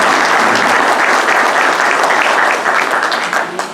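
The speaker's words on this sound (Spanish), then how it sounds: "Brindémosle un fuerte y cálido aplauso." An audience at a book presentation in Pomabamba bursts into loud, sustained applause, dense steady clapping from many hands that fades slightly at the end.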